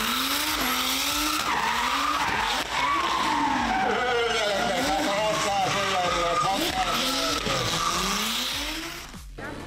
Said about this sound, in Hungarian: ezek nem drift bemutató konkrét, ez csak egy ilyen kis kapartatás